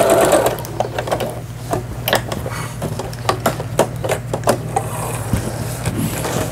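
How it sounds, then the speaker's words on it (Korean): A Janome Computer 5000 home sewing machine runs a zigzag stitch, a steady mechanical hum under rapid ticking needle strokes, close and continuous. "지그재그로 바느질을 합니다."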